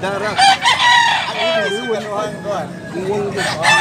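A gamecock crows loudly and close by, a long warbling call, with clucking fowl and a bit of background chatter around it.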